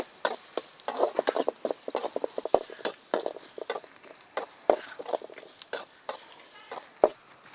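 Crushed shallots with garlic and ginger frying in hot oil for a Kerala sadya-style rasam, a soft sizzle broken by a dense run of sharp spoon clicks and scrapes against the pan, close and without voices.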